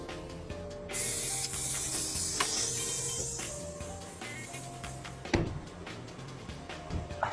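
A car air-conditioner freshener spray can, its nozzle pressed fully down and locked, discharges in a loud continuous hiss that slowly fades, with a few clicks and knocks near the end and no talk.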